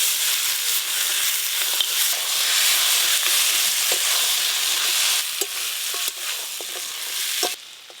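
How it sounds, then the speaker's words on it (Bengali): Crab and fried eggplant stir-fried with spices for a spicy crab curry, a dense, loud hissing sizzle with scattered scraping stirs that thin out and quieten toward the end. "মশলার সাথে কাঁকড়া আর ভেজে রাখা বেগুন বেশ ভালো করে কষে নিয়েছি"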